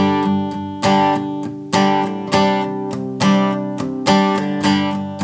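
An acoustic guitar strums intro chords in a brisk, even rhythm, each ringing strum decaying before the next, played close and alone.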